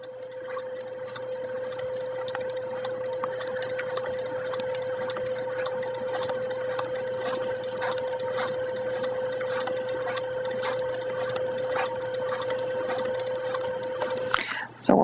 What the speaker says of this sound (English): I'm letting the sewing machine do the work